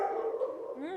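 A dog gives a drawn-out, howling bark-whine, close and fairly loud, with a rising wavering pitch in one continuous second-long call.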